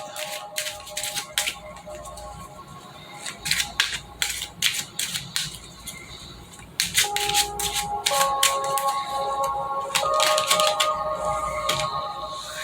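Continuous crisp riffling and snapping of cards being shuffled, close and busy, with brief irregular pauses between bursts.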